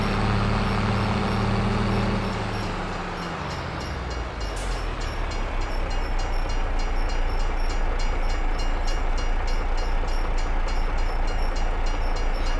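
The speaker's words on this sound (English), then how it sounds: "Oh boy, okay, the train's on its way." A train in the farming video game Farming Simulator 22 rolls past close by, starting with a low horn-like tone, then a loud, steady, rhythmic clatter of wheels over rail joints that fills the scene without any talking.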